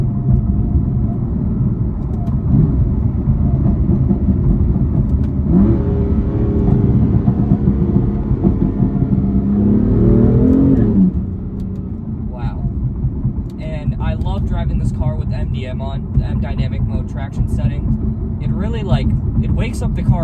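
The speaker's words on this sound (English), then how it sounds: "this transmission just slams you into the next gear" A BMW M3 with a DCT transmission pulls hard, its engine note climbing steadily before an abrupt gear shift cuts it off. A steady drone continues afterward while a voice talks over it.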